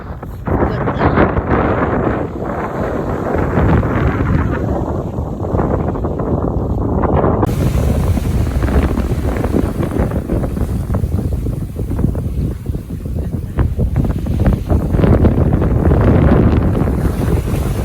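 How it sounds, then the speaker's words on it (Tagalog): Strong wind buffets the microphone in Katsuura, Chiba, with a steady, loud rumble, gusting throughout and sounding like open water or a boat deck outdoors. "tignan nyo kung gaano kaganda yung hangin"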